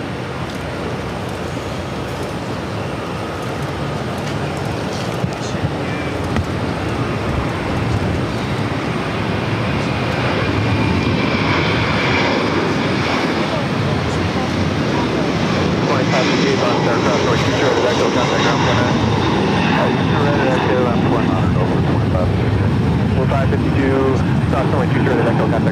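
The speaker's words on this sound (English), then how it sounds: "Iberia, flight 6166, heading to Madrid at A330-300 up next for takeoff." An Iberia Airbus A330-300 jet takes off from Boston Logan, a loud broadband engine roar building and sustained throughout, with a voice talking over it.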